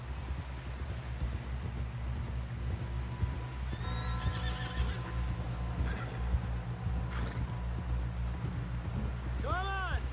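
In Red Dead Redemption 2, a horse whinnies repeatedly over steady clip-clopping hooves and wind in a snowy setting, with voices talking over the scene.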